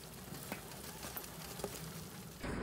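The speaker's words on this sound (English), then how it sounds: "You can hear it's absolutely tipping down outside" Heavy rain pours down outside during winter on a farm, a steady broadband hiss with soft patter and scattered drips, moderately faint and continuous with no talk.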